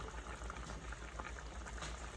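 Pureed greens go into a boiling gumbo pot, a dense, steady bubbling and liquid rush that stays close and fairly loud throughout with no talking over it.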